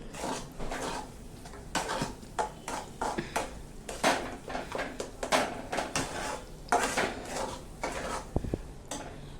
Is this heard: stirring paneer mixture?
yes